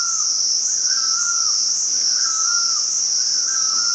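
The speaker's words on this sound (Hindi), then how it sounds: "मैं ऐसे चिड़ियों का" Birds sing in a Meghalaya forest near a living root bridge, a repeating warble rising and falling every second or so over a steady, shrill insect chorus, with no talking.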